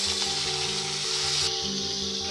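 Ivy gourd pieces fry in oil over tempered spices, making a continuous close sizzle with a steady low hum beneath it and no talking.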